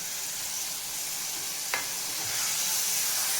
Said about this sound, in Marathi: आता ही तेलात चांगली भाजून घ्यायची आहे।